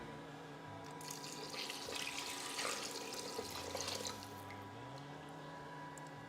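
Water runs steadily into a Thermocook Pro M 3.0 for risotto, a soft continuous trickle and splash at close range with no talking.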